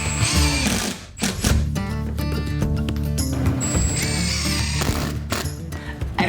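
Cement board is screwed down over fresh thinset mortar with a power drill for a porcelain tile floor: loud, close whining drill runs with pitch changes and a brief pause, under rattling mechanical noise.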